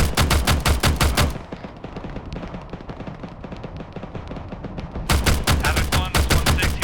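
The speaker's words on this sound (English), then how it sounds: "hearing a lot of gunfire" Gunfire in a military video game: dense bursts of loud automatic fire open the clip, ease into a lower, continuous rattle of distant shooting, then heavy rapid bursts return near the end.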